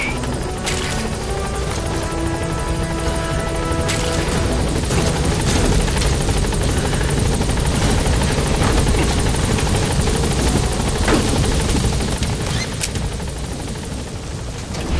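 P-Quad helicopter hovering on station at a landing zone in Metal Gear Solid V, a loud, continuous rotor thrum and whine filling the scene with occasional sharp clanks.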